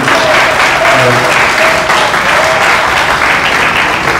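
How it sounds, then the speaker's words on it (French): A crowd at an independence day celebration claps loudly and continuously, a thick wash of applause with faint voices murmuring underneath. "je demande à tout le monde d'applaudir"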